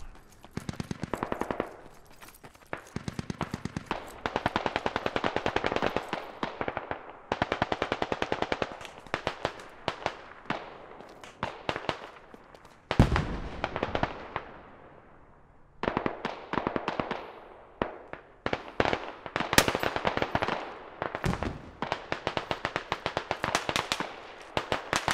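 Gunfire in the military shooter game Squad: long bursts of rapid automatic fire with scattered single shots, loud and close, broken by short pauses and one heavy blast midway.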